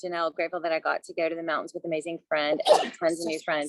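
A single short sneeze bursts out in the middle of steady conversational speech, sharp and close, with talking continuing right around it.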